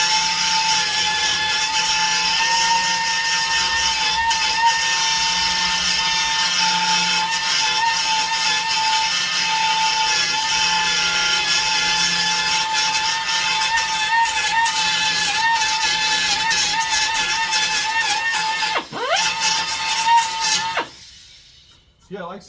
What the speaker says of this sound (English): there's a little stitch weld here I'm going to cut down.